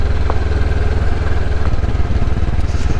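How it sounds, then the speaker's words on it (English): A 2019 Honda CB500X motorcycle engine idles up close with a steady, loud, low throbbing pulse. The rhythm stays even throughout and no voice is heard. "This is a 2019 Honda CB500X, and this bike was made for me."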